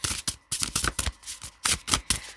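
Divine Abundance Oracle cards are shuffled close up in quick riffling bursts, a run of crisp papery flutters and slaps separated by brief pauses.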